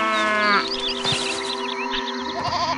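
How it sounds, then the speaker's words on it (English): Cattle and oxen in a farm field in the game Master of Atlantis low and moo repeatedly, several overlapping calls layered over a continuous tonal game soundtrack. "Cattle are kept in the field far past their prime."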